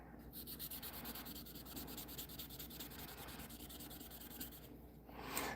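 Steady, continuous wet sanding of resin on a carving knife, with a soft wet rubbing texture, close and even, with no talking.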